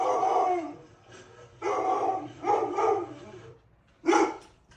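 A dog barks and howls in several loud, close bursts separated by short pauses, with no talk over it.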